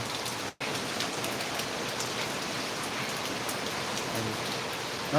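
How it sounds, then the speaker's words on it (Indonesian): Heavy rain pours steadily, a dense continuous hiss of drops drumming on surfaces, with a brief dip in the noise near the start. "Hari udah hujan. Deras ya."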